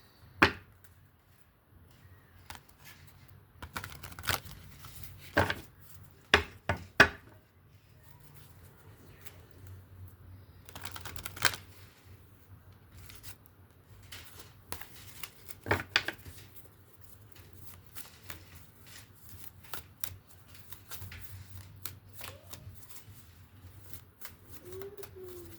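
Playing cards being shuffled, a series of quick papery riffles and taps that come in scattered bursts over a low steady hum, fairly quiet, with no talking.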